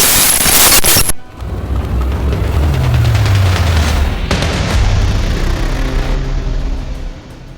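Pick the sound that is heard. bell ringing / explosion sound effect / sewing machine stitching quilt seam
explosion sound effect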